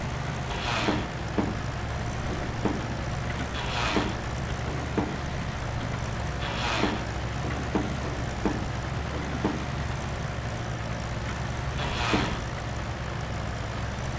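Tractor engine in Farming Simulator 25 running an Indian mod, a steady low drone throughout, broken by periodic brief clatters and bursts of higher noise, with no talking.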